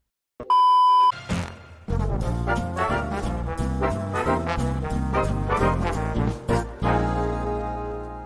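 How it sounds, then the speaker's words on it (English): A phone emits a short dialing tone for about half a second, steady and loud. Busy music then takes over for the remainder. "Dialing Reverse Mortgage Company."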